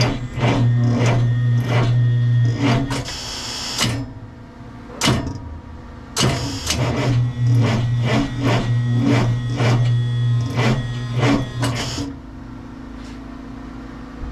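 Cat 3208 diesel engine in a 1985 Ford C8000 being cranked with weak battery power: repeated rhythmic starter chugging in several long bursts, broken by sharp clicks and short pauses, close and loud without catching.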